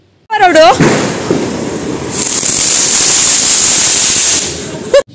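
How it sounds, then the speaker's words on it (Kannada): Deepavali firecrackers go off outside a family home in Mangalore after Lakshmi puja, a loud sustained hissing spray of sparks after a short whistle, ending in a sharp pop, heard up close. "ಬೊಕ್ಕ ಒಂಚೂರು ಪಟಾಕಿ ಬುಡಿಯ"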